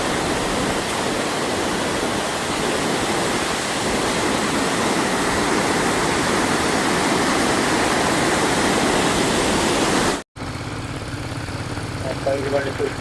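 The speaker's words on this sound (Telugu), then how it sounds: "సూపర్ ఉంది వాటర్ ఫాల్." Waterfall on the road to Thang village in Ladakh, a steady broadband roar of rushing water that fills the scene for about ten seconds, then cuts to a quieter, different background.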